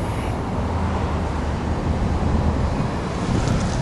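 Strong wind blows outdoors, buffeting the microphone in a steady loud rush with low rumbling gusts throughout, and no talking heard.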